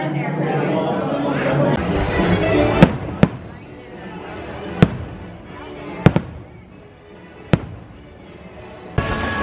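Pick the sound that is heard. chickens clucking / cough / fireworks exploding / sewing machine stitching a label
fireworks exploding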